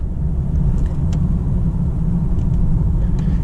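A BMW 330 xDrive rumbling steadily from inside the cabin on the road, a loud, low, even engine and road drone with faint clicks over it.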